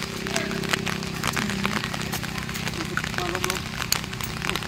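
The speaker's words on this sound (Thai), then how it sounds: "ตอนนี้ฝนก็ยังตกอยู่เลย" Steady rain patters across a surface with scattered sharp drips, a constant wash of noise filling the background.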